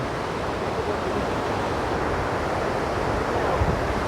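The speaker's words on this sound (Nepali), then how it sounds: "यो मैलुङ झरना भनेपछि वाटरफल डाउन यस्तो दामीसँग बगिरहेको छ" Mailung waterfall in Nepal flowing down, a loud, broad, steady roar of falling water with some wind buffeting on the microphone, continuous and without talk.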